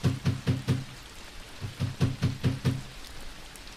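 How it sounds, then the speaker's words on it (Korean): Someone knocks on a front door on a rainy night, two quick clusters of firm raps over a soft steady patter of rain. "갑자기 현관문을 두드리는 소리가 들렸습니다"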